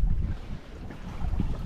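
Wind gusting over a sailboat on the Mediterranean with the motor cut, a steady low rushing buffet with soft water movement and no voices.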